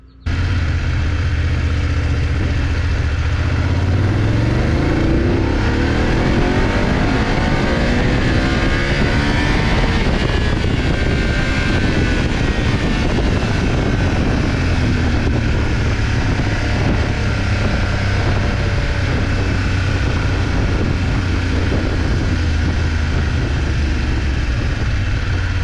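A 2022 BMW F750GS motorcycle engine rises in pitch as it accelerates, then settles back as the throttle eases, a loud, continuous close-up drone with wind rush throughout and no talk.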